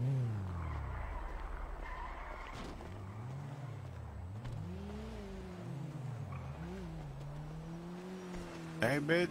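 A car in GTA 5 pulls away, its engine note rising and falling through gear changes at steady moderate level, with game background noise throughout and a brief burst of louder noise near the end.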